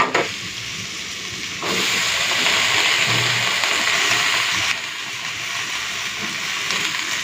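Malabar spinach hitting hot fish oil with fried potato and eggplant, bursting into a loud, steady sizzle that swells for a few seconds, then settles to a softer crackle.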